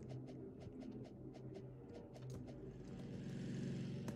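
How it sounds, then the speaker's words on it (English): Cars pass in a Roblox Piggy game, a low steady engine rumble swelling slightly toward the end, with faint bird-like chirps layered over it. "Oh, I hear cars."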